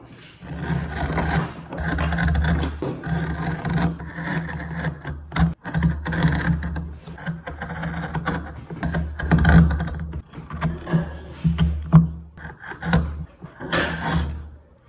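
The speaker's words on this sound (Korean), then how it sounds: "나무 깎는 소리" A wooden statue of the pensive bodhisattva is carved by hand, with close, crisp scraping and chipping strokes of a blade biting into wood, repeated in quick irregular bursts over a low background hum.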